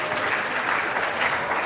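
Audience applause in a university lecture hall during a talk on entrepreneurship and leadership, a dense, steady wash of many hands clapping that stays even and fairly loud throughout, with no voices over it.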